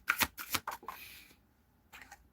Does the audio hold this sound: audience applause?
no